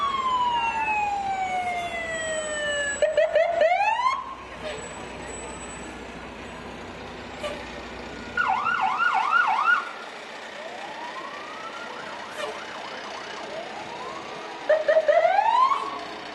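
Several fire truck sirens wail and yelp at a distance during a Fourth of July parade, sweeping up and down in pitch, with short horn blasts breaking in between.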